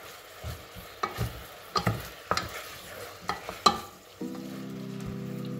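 Onions and ham fry in a pan outdoors in the woods, a steady sizzle broken by a series of sharp scraping stirs, then a loud constant hiss takes over near the end; no one speaks.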